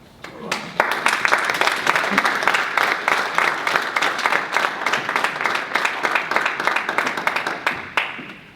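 An audience at a panel discussion on Black politics applauds the panelists, a loud, dense burst of many hands clapping that swells quickly and holds steady for several seconds before tapering off.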